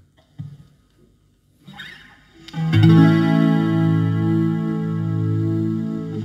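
An electric guitar chord on the neck pickup rings out after a few faint taps, warm and full, sustaining steadily and slowly fading.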